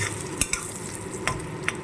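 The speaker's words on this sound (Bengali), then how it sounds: "বেগুন লাল লাল করে ভাজা হয়ে গেছে" Soft, steady sizzling of eggplant frying in a pan, with a few sharp scraping clicks of a utensil stirring at irregular moments; no voices.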